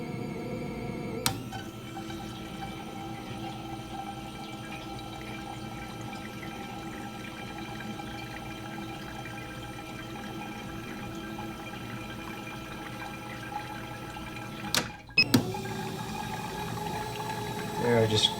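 Fuel injectors are reverse flushed with cleaner under pressure, a steady hissing spray and pump hum running continuously, broken by a short click and pause before the flow resumes.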